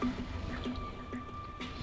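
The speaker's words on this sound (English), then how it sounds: "went ahead and drained the oil to see just how bad it was" Watery, milky oil draining from a seized car engine, a close wet splattering drip and trickle with squishy liquid sounds and a faint steady hum beneath.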